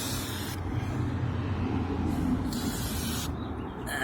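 Turtle Wax Interior Foam Cleaner sprays onto car floor mats in three hissing bursts, close and distinct, separated by short pauses, over quiet background.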